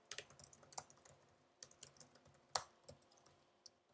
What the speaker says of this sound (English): But then you could see me typing.